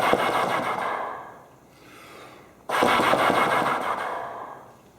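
A trombone player demonstrates tongued articulation on a toneless airstream, producing two long, breathy rushes of air with rapid tongue flutter, close and fairly loud, separated by a brief quieter gap.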